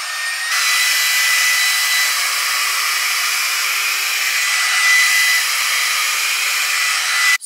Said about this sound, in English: as like the straightener and hairdryer in one